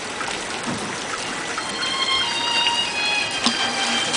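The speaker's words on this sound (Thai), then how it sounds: "บรรยากาศมันฝนตกครับ" Rain falls steadily as a continuous broadband hiss, moderately loud and even throughout, with faint trickling detail and no voices.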